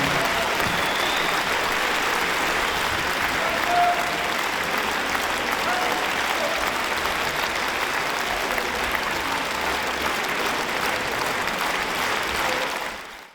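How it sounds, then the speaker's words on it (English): A crowd claps during a live performance, a thick and even wall of hand clapping that continues at constant strength for over twelve seconds before cutting off sharply. "Everybody wants to start clapping to the beat."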